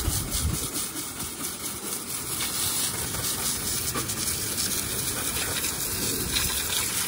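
Water spraying to rinse wheel cleaner off a car wheel, a continuous loud hissing gush that stays steady throughout, with no voices.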